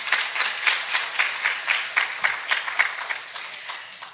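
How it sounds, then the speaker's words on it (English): An evening lecture audience applauds an honored guest with steady, moderately loud clapping. The individual claps stay distinct, with no talk over them. "So let's give him a round of applause."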